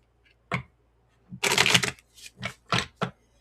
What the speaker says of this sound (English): And do a little shuffling.